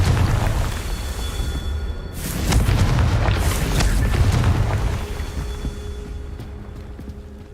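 Confringo blasting spell explosions in Hogwarts Legacy: a deep, booming detonation swells out of a steady rumble, with rolling crackling blasts lasting several seconds before fading back to a low background.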